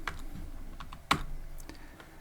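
Code being typed on a computer keyboard for a Python Pong game: a run of soft, irregular key taps with one sharper, louder keystroke midway, close and quiet.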